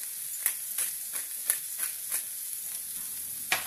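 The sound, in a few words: pasta cooking in a frying pan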